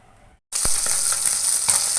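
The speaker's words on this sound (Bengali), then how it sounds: "তো মাছগুলো ভাজা হচ্ছে এখন" Fish sizzles loudly in hot oil in a wok, a sudden burst of steady frying hiss after a moment of near silence, with faint spatters and pops throughout.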